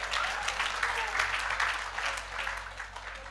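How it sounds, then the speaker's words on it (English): At an entrepreneurship business plan competition event, the audience gives a steady round of applause. Many hands clap in a continuous, moderately loud patter over a low hum, slowly easing toward the end. "Can we have a huge round of applause for that?"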